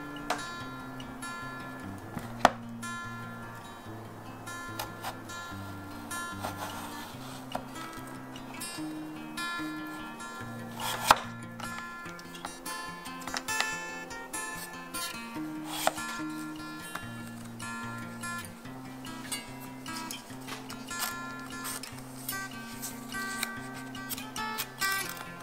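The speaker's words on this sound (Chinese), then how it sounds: "萝卜攞嚟切片" A knife slices radish into pieces on a cutting board, making light, sparse taps and clicks at irregular intervals under steady background music.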